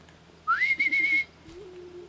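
Aloy gives a single short whistle in the Horizon Zero Dawn video game, a clear tone that rises and then holds with slight wavering, followed by quiet background ambience.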